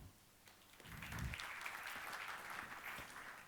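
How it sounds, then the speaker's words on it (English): Applause from the audience at a housing summit, starting faint and building after a moment into steady, moderately quiet clapping from a room of people that carries on to the end. "please give yourself applause as well"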